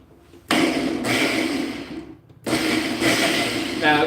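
A kitchen blender pulses strawberries, banana, milk and egg for pancake batter in two short loud bursts, each lasting about a second or two and separated by a quiet gap.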